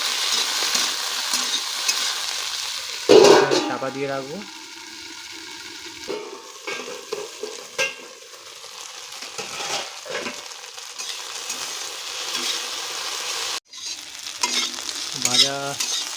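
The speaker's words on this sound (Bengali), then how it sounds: "এবার আমরা এটাকে ভাজা ভাজা করবো।" Okra and egg bhurji fry in a pan with a steady close sizzle, broken by spatula stirs and scrapes. A louder burst comes a few seconds in and another sharp clatter near the end.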